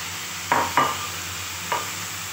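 Ridge gourd and tomatoes cooking in a pan, with three short scraping stirs and a faint steady sizzle beneath.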